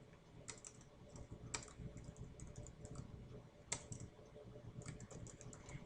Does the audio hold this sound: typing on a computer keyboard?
yes